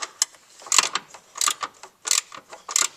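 Ratchet tightening bolts on a charcoal canister during alternator work on a 1995 Suzuki Sidekick: close, crisp bursts of clicking in short spurts, about five runs separated by brief pauses.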